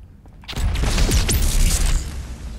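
A big gun fires in Fallout 4: a heavy booming blast with sweeping, whining mechanical tones, loud and close, fading into a rumbling tail.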